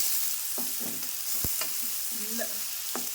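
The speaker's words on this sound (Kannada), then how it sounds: "ಗೋಲ್ಡನ್ ಕಲರ್ ಬರೋ ತನಕ ಫ್ರೈ ಮಾಡ್ಕೋಬೇಕು ಉಳ್ಳಾಗಡ್ಡಿ" Onions frying in a pan toward golden brown, a constant bright sizzle with a few soft knocks and scrapes of stirring, close up, no talk.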